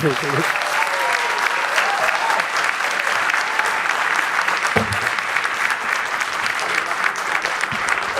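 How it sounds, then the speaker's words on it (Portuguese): An audience at a political accountability event applauds, with continuous loud, dense clapping throughout and a brief voice or shout near the start and middle. "uma salva de palmas para o Renan"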